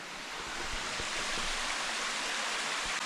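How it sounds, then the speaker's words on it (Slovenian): The Orglice waterfall in the Kamnik-Savinja Alps, a tributary of the Kamniška Bistrica in the Kamniška Bela valley, gives off a steady, broad rush of falling water with a few low thumps. "Po pol urce hoje evo, sva prišla do slapu Orglice."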